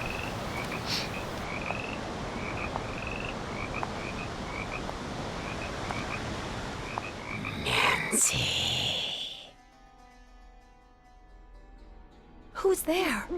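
Nighttime frog croaks from the game Nancy Drew: Curse of Blackmoor Manor repeat evenly over an ambient bed, then a brief burst of speech-like noise cuts in and the chorus drops away to near quiet before a short final sound.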